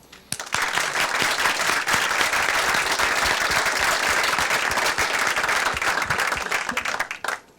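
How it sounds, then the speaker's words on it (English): A panel discussion audience breaks into loud, sustained applause for the facilitators, dense clapping from a full room lasting several seconds before tapering off. "I think you all deserve a big applause from all of us."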